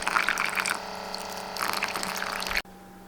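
Water from a LetPot automatic plant watering system, splashing and trickling steadily into the plant pot, up close, with a faint pump hum underneath, stopping abruptly near the end.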